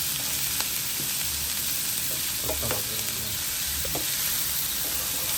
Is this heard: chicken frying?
yes